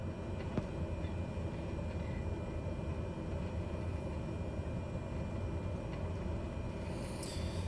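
A Cessna light aircraft's piston engine drones steadily at a constant level while taxiing on the ground, a continuous low rumble filling the whole stretch with a faint higher whine near the end.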